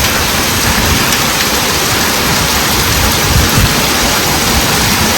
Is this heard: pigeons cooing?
no